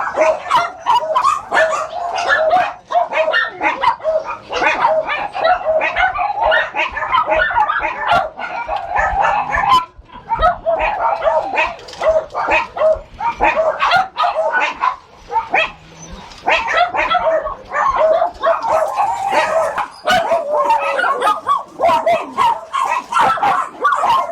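A dog at a Korean dog meat farm barks repeatedly and loudly up close, sharp yaps and bow-wows mixed with whimpers and yips, with people talking intermittently in the background throughout.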